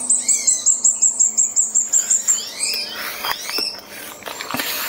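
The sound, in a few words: many birds chirping in trees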